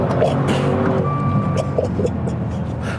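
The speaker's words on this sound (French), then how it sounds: "Là, je suis en 3, je me remets en 2, j'accélère." A Maserati Levante Trofeo SUV with a Ferrari-built turbo engine pulls hard in second gear, its deep rumble steady and loud from inside the cabin.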